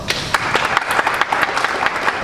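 Graduation audience at GEMS American Academy Qatar clapping for two co-salutatorians, a steady dense patter of many hands with sharper individual claps standing out, moderately loud and continuous throughout.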